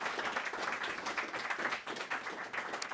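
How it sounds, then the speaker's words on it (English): Applause from an audience at a Toastmasters district event in Dublin, a dense steady patter of many hands clapping close and loud, running unbroken for the whole stretch with no voices over it. "Round of applause, please."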